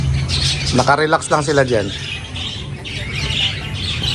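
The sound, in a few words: lovebirds squawking and chirping in aviary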